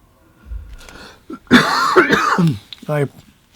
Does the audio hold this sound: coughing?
yes